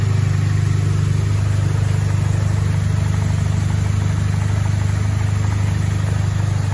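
A car engine fitted with a gutted ZZP high-flow downpipe, Injen cold air intake, no resonators and no muffler idles loud and close, a steady raw drone with a constant low throb and no talk.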